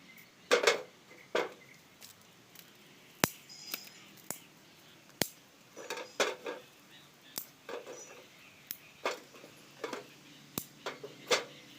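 Short pieces of sticks and areca palm ribs dropped one by one into a metal vessel for making charcoal, giving sharp, scattered clinks and knocks at irregular intervals, fairly quiet and close, with no talking.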